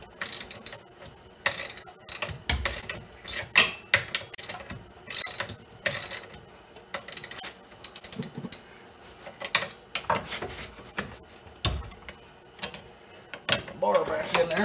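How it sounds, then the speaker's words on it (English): Hand ratchet clicking while shock bolts are removed from a C4 Corvette, heard as irregular bursts of quick metallic clicks with short pauses, close and fairly loud, with occasional metal clinks and no talking. "remove the shock bolts."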